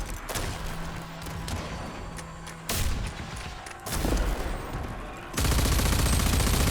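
Mortar fire and gunfire fill a video game battle, with rapid dense bursts of shots and heavy booming impacts that grow louder in sections, a constant loud barrage with no voices.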